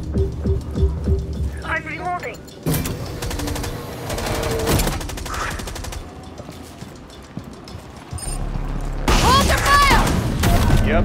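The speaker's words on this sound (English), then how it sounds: "Impact grenade coming." Explosions and bursts of gunfire from a first-person shooter video game as an impact grenade goes off, with loud broadband blasts and rattling shots under excited talk throughout.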